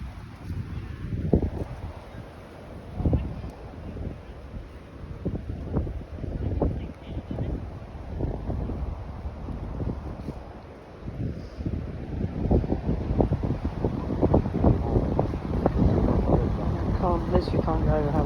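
Gusting wind buffets the microphone throughout a walk in a Norfolk forest, a steady low roar with louder swells, while people talk over it.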